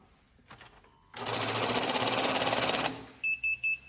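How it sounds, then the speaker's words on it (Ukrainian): A NanoCash 932A banknote counter whirs loudly for about two seconds as it feeds a stack of notes, with a fast steady flutter, then gives three short electronic beeps. "Лічильник банкнот NanoCash 932A"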